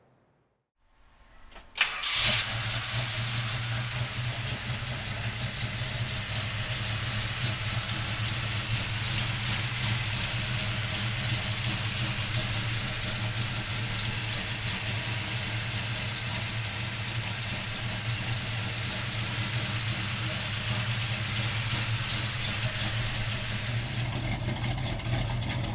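A 1971 Plymouth Road Runner's 440 V8 cranks briefly and fires, then settles into a loud, rumbling, steady idle with a deep throb that carries on at close range for over twenty seconds.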